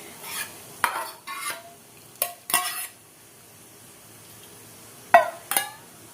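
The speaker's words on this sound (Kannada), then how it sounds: "ಇದನ್ನು ಸಾಂಬಾರು ಮಿಕ್ಸ್ ಮಾಡ್ತಾ ಇದ್ದೀನಿ" A spoon stirs Mandya Mysore style mosappu sambar in a pan, giving close, intermittent scrapes and metallic clinks in short irregular bursts, with gaps between them and no talking.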